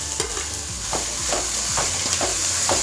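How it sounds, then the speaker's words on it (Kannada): Capsicum frying in a pan for gobi manchurian, a steady close sizzle with regular scraping strokes of a spatula stirring the pieces, no voices. "ಇನ್ನು 5 ನಿಮಿಷದಾತು ಫ್ರೈ ಮಾಡ್ಬೋದ"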